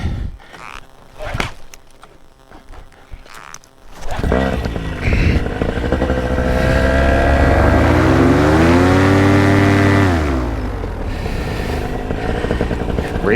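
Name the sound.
paramotor engine starting and running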